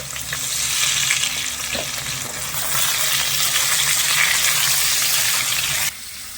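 Potatoes and soya chunks fry in a pan for a vegetarian biryani, giving a dense, continuous hiss of sizzling oil that cuts off sharply near the end.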